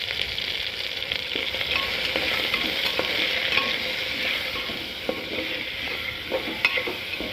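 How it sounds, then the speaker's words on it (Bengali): Mixed vegetables with turmeric and salt are stirred in a sizzling pan for khichuri, with a steady frying hiss broken by repeated spoon scrapes and taps against the pan. "এবার আমি একটু নাড়াচাড়া করে নেব।"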